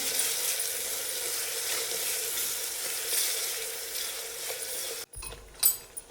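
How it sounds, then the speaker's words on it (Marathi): Masala paste for Kolhapuri misal fries in oil over a low flame, giving a steady bright sizzle. Near the end a few clanks and scrapes of stirring break in. "छान तेलात परतून घेऊया"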